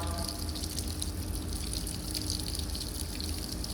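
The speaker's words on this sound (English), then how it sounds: "Just begin with a little bit of a flush out of the service port. Get all the water through from the main." Water gushing steadily out of the service port of a combination air valve during flushing from the main, a continuous close rushing hiss with no talk.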